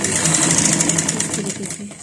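An electric sewing machine hums and stitches steadily along the folded hem of a pant-cut trouser while a person talks over it.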